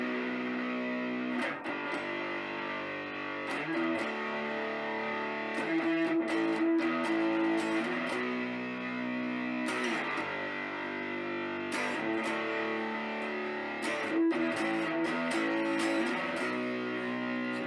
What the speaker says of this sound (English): let you hear what the pickups sound like with some dirt on them